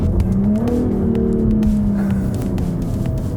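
A 2021 Jaguar F-Type P380 revs loudly and steadily up close through manual downshifts while slowing for a red light, its engine note rising and falling without pause and no voices over it.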